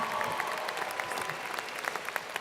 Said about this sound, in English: We applaud your successes and thank you very much.